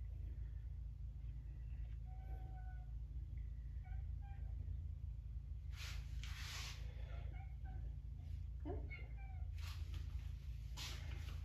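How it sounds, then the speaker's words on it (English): A house cat meows faintly in the background during an epoxy river pour, a few drawn-out calls and short yowls spread across the stretch under a steady low hum. "And now everybody gets to hear my cat in the background."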